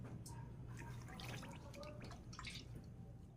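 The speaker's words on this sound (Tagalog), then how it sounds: "7 cups din po ng tubig ang ilalagay natin" Boiled water for pineapple vinegar poured out in short, scattered splashes and drips, close and moderately loud over a low background hum.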